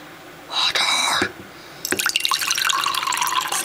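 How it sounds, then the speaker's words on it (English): Water pours into a cup with a steady splashing rush that lasts about a second, followed by a brief pause. A longer, bubbling fill then runs on continuously. "Water."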